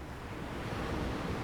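Steady broadband ocean surf washes continuously with a windy hiss, close and full, with no talking.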